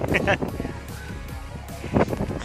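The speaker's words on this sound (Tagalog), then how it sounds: "Malakas yung hangin dito sa Marilaki." Strong wind buffeting a microphone outdoors at Marilaque, low rumbling gusts and thumps running beneath someone speaking close by.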